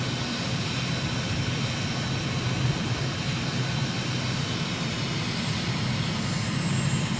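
An airplane engine in Microsoft Flight Simulator drones in a steady, loud, broadband roar with a faint high whine on top, holding a constant level throughout as the aircraft slows for landing with gear and flaps down.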